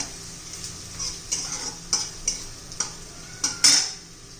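Green chillies sautéed in hot oil in a pan: a steady soft sizzle beneath repeated sharp clinks and scrapes of a spoon stirring against metal, close by.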